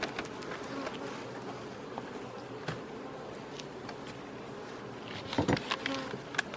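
Honeybees swarm around an open beehive on a very hot day, a steady soft buzzing carrying on throughout, with a few louder bursts as insects pass close near the end.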